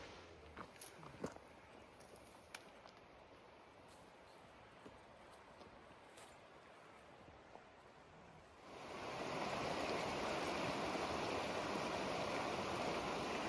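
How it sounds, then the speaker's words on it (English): Canyon Creek in the Trinity Alps Wilderness, just below a ledge, rushes with steady, close broadband water noise that swells in after a quiet stretch and then holds at full loudness. "this is Canyon Creek shortly after it comes off that ledge"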